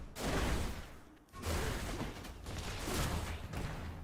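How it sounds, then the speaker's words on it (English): Inferno bomber enemies in the Hades video game set off loud, close explosions, several heavy booming bursts with whooshes and rumbling that swell and fade across a few seconds, with no talk over them. "those are bigger explosions than I thought they were"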